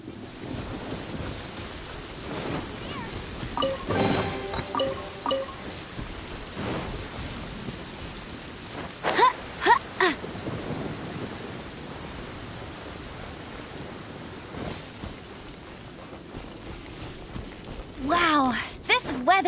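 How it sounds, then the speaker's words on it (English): Rain falls in Genshin Impact as a soft, continuous hiss behind the game's sound, with a few sharper effects and voices breaking in here and there. "It's raining again."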